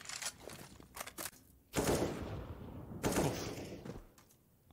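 Automatic AK rifle bursts in Counter-Strike on the Dust2 map, two loud sustained volleys with short sharp shots before them and softer scattered taps and footsteps around.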